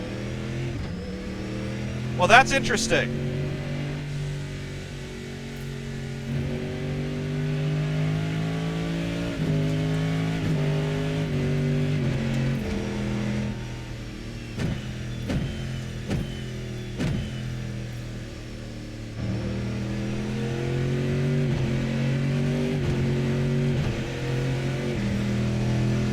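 The RSS MP-H Callahan race car in the Assetto Corsa video game drives with its engine note steady and then rising through the gears. A person speaks briefly over the engine, which holds loud and continuous throughout.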